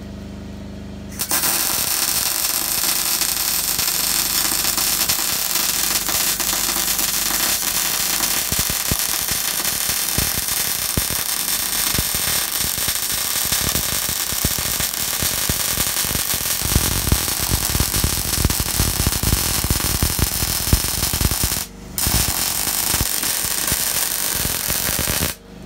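Arc welding a full penetration butt weld: a steady, dense crackle and sizzle runs for about twenty seconds with dense spatter pops, breaking off briefly near the end before resuming.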